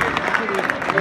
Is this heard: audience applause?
yes